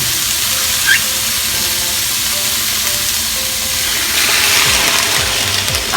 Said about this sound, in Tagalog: Lagyan lang natin ng konting tubig